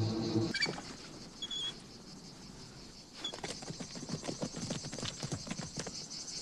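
Horses gallop across open ground in a western showdown, a rapid run of dull hoofbeats building from about three seconds and pounding close and loud to the end, with a brief high ringing tone early on.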